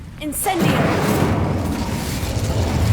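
A fire spell in Hogwarts Legacy, cast inside the castle: a short whooshing crackle rises into a loud, sustained roaring burst of flame that fills the rest of the moment.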